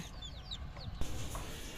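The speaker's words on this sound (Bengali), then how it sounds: "ওই মুরগির বাচ্চা দেয়া ভয় পাইছে" Frightened young chickens cheep in quick, high, rising chirps early on, then a single thump is followed by quieter farmyard background.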